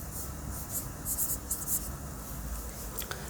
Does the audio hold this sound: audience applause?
no